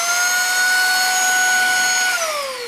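A vacuum cleaner fitted with a brush runs loud and steady up close while cleaning a sofa, a constant whine that dips slightly in pitch near the end.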